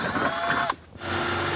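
A loud power drill whines steadily, briefly dips as the bit pushes through a carbon front lip on a BMW E92 M3, then spins back up to full speed.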